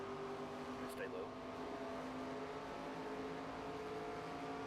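Race car engines in NASCAR 25 during a night race at Phoenix International Raceway in the desert, a steady dense drone with a few faint passing whines, running continuously under background voices.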